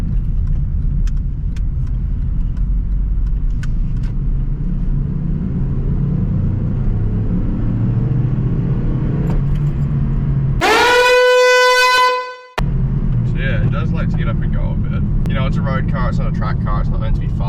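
A car with a 1.8 litre engine drives along with a steady low engine rumble and road noise, voices talking over it, and a brief bright tonal burst near the end.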